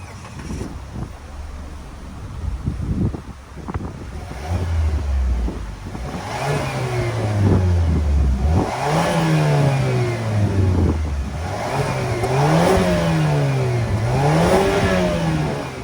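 A 2022 Mazda CX-5 with the 2.5 liter Skyactiv Turbo engine cranks and fires up, then is revved repeatedly in rising and falling sweeps, loud and close with no talking.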